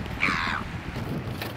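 A seagull being fed from a fishing boat on an Australian reef gives one short, harsh squawk near the start, loud and close, with low wind and water rumble continuing underneath.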